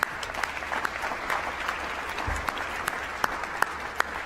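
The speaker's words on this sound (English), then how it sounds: "Please give all those teachers a round of applause." Audience applause for teachers at the 2023 WILLCO Awards ceremony, a steady sustained wash of many hands clapping in a hall, with a few sharper claps standing out near the end.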